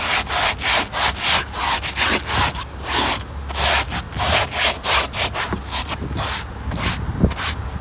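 Steady back-and-forth scrubbing against a dirty car interior surface during cleaning, loud and close, with a brisk, even rhythm of rubbing strokes and no talk.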